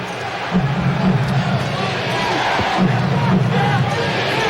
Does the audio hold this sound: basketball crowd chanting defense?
yes